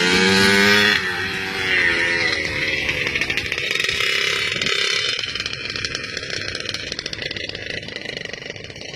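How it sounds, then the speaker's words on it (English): Motocross motorcycles roar loudly past at close range, a raw buzzing engine howl that swells and then fades as the riders move away, with no talking. "Oh God, motocross."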